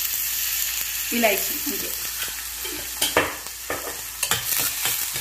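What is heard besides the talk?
onions frying and being stirred in a pan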